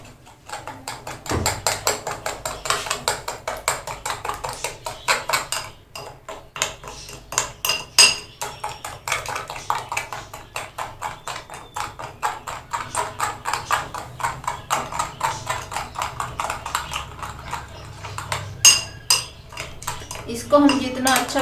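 A spoon or whisk beats dry fruit cake batter with icing sugar in a bowl, making fast rhythmic clattering against the bowl that is loud and close, with brief pauses before the beating resumes.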